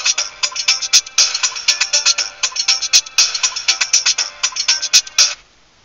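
A ringtone plays through a portable CarPlay/Android Auto tablet during an outgoing phone call, a loud, steady pulsing ring repeating in even bursts for about five seconds before cutting off.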